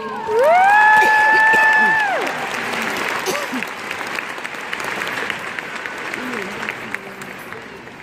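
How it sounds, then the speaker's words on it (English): Audience at a high school graduation ceremony breaks into applause with some cheering, opening with a loud held whistle-like tone, then a broad wash of clapping that gradually thins out. "Let's have one more round of applause for our valedictorians"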